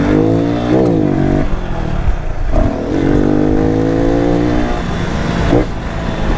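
A Honda Pop 110 motorcycle engine revving hard during a wheelie, loud and close, with rising and falling throttle sweeps and brief drops between pulls.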